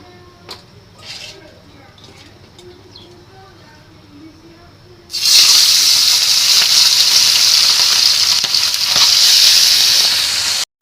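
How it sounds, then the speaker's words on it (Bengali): Fish frying in hot oil on a tawa on a home stove: after a quiet stretch of soft kitchen noise and a voice, a loud steady sizzle bursts in and hisses continuously to the end. "চুলায় একটা তাওয়া বসাই দিছি তেলও দেওয়া আছে এখন মাছগুলিকে আমি ভাজবো"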